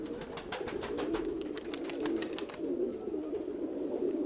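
Pigeons coo steadily in a low, throaty drone, with rapid wingbeat flutters from birds flying overhead, close by and continuous.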